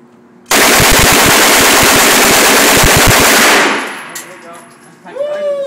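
A machine gun fires one long continuous burst at a Las Vegas shooting range, loud and close, with a rapid stream of shots lasting about three seconds before the echo fades and faint voices follow.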